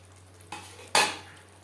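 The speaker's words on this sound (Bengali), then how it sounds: "আলু বেশ ভালো করে মিক্সড করে দেবো" A spoon scrapes through potatoes and spices in a pan, two distinct stirring strokes, the second louder and sharper, over a quiet kitchen background.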